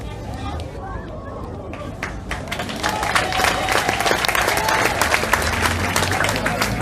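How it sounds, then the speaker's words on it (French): An audience applauds a coach at a sports association evening, a dense crowd clapping that swells and grows louder after a few seconds, with chatter mixed in. "vos applaudissements s'il vous plaît pour coach Albert"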